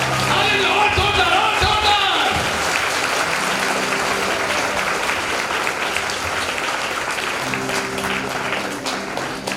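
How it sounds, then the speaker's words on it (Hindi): A church congregation applauds loudly and continuously at a worship meeting, dense clapping holding steady throughout with a few voices rising over it. "जोरदार ताली बजाएंगे इसके लिए हम।"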